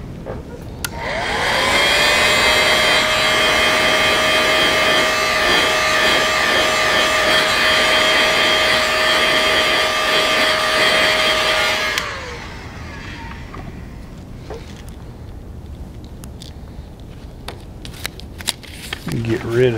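A heat gun heat-sets paint on a fishing lure, blowing with a loud, steady whirring hiss for about ten seconds before it switches off, followed by faint handling clicks.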